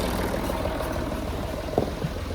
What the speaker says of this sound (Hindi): ट्रैक्टर गया है बगल से